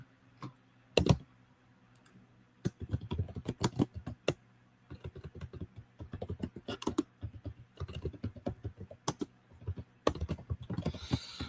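Someone types on a computer keyboard in uneven bursts of close, crisp key clicks separated by short pauses, with a few louder taps and no talking.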